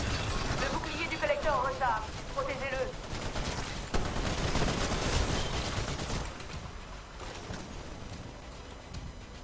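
Gunfire from the Titanfall video game's frontier defense mode, rapid bursts of shots rattling steadily for most of the clip, with speech-like voices heard early on and the shooting thinning toward the end.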